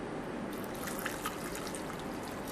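Water is poured into a cooking pot of vegan chili with a soft, faint trickle and a couple of small drips, steady and fairly quiet against light background noise.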